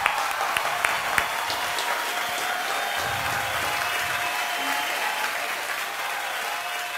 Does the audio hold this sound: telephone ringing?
no